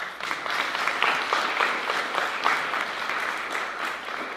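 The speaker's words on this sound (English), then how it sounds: "You can give her a round of applause." Steady applause from a crowd at a school board meeting, dense clapping continuing for several seconds at an even level, moderately close.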